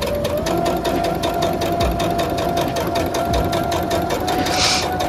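Sewing machine stitching a teddy bear ski mask, a steady loud mechanical whir with a fast regular needle rhythm running continuously, close up and alone.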